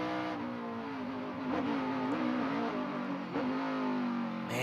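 NASCAR O'Reilly Auto Parts Series race car at COTA, heard from the race leader's car as it brakes into a corner. The engine drones loudly and continuously, its pitch dipping and climbing as the driver brakes and revs.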